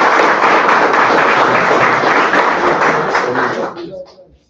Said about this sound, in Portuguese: Salva de palmas pro Guerreiro aí.